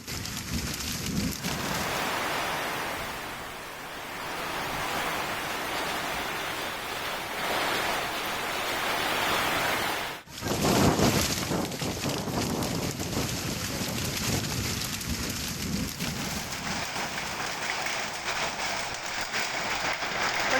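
Heavy rain with hail pours in a constant hiss during a windy hailstorm in Akkalkot, a broad wash of noise that stays steady throughout, moderately quiet and without voices.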